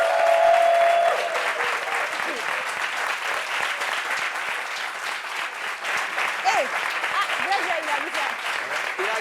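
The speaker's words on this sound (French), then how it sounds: "On applaudit pour elle, s'il vous plaît." Studio audience applauding a guest arriving on a French television talk show, a steady wash of clapping lasting several seconds with voices faintly underneath.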